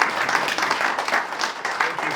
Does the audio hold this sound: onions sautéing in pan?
no